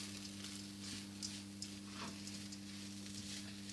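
Chicken and mushroom risotto frying in a pan on an electric cooker at low-medium heat, a quiet, steady sizzle with occasional soft stirring scrapes and small pops over a low electrical hum.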